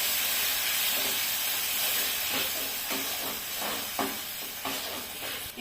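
Chutney for chicken momo is stirred in a hot pan, a steady sizzling hiss with a run of rhythmic scraping strokes, close and moderately loud.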